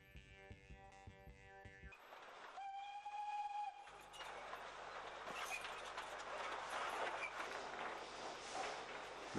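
A heritage train on the Setesdalsbanen railway pulls into Hegeland station, sounding a sustained whistle before the rumble and clatter of the rolling cars builds and carries on, fairly near.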